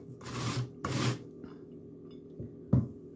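Vegetables rasped across a large box grater in a home kitchen while making vegetable pancakes: two long, close scraping strokes, then quieter softer scrapes and a final short rasp.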